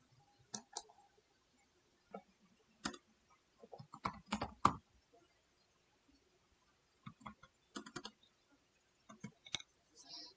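Tags are typed on a computer keyboard in short irregular bursts of crisp clicking keystrokes separated by quiet pauses, close and fairly soft.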